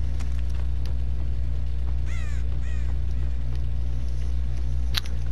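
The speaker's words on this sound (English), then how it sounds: "I don't think I disturbed that bird." A crow caws twice in quick succession in a video game, harsh calls rising over a steady low engine-like rumble, followed later by a sharp click.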